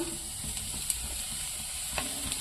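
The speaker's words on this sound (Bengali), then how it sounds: "তেলটা গরম হয়ে গেছে আমি এইবার পেঁয়াজগুলো তুলে দিচ্ছি পেঁয়াজ কাঁচা লঙ্কা ক্যাপসিকাম" Onions, green chillies and capsicum frying in hot oil, a steady crackling sizzle close up with a few light clicks of a spatula against the pan, no voices.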